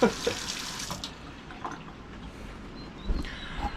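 A hot-water tap runs steadily into a food truck sink, a continuous watery hiss with splashing, fairly close and unbroken throughout.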